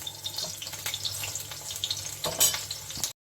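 Okra frying in oil over raised high heat for a mustard curry, a continuous crackling sizzle with stirring scrapes, fairly close and quiet, cutting off abruptly at the end.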